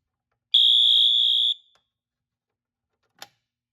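A Simplex fire alarm sounds after a T-bar pull station is pulled: one loud, steady high-pitched electronic tone for about a second that then cuts off, followed later by a short faint click.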